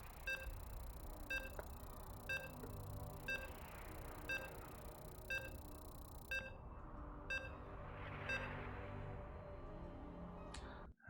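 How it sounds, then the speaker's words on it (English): Short electronic beeps repeat at an even pace, about one per second, over a low background hum, fairly faint, as StarCraft 2 loads into the next game. "As you can hear the beeps, we are loading into that next game."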